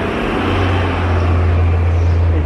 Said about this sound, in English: always a garbage truck.